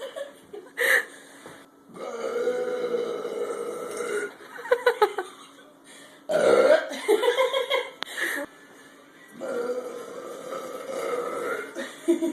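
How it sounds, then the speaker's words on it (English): A girl burps repeatedly after eating banana and drinking Sprite, with several loud, drawn-out belches separated by pauses, mixed with laughter and chatter from people nearby. "You just burp again."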